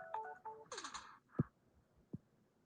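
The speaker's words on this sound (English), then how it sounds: "my phone just happened to chime in and let me know" A phone sounds a short, faint melodic chime of a few quick tonal notes, followed by a couple of soft taps or knocks in an otherwise quiet room.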